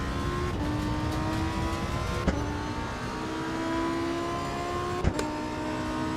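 A car engine drones steadily while driving, its pitch shifting between gears with a couple of sharp transient clicks, a sustained loud mechanical tone with no talk.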